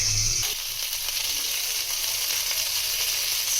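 Chicken tikka pieces frying in ghee in a pan, a steady close sizzle running without a break from start to finish, with no voices.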